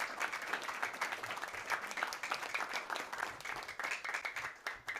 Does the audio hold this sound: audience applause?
yes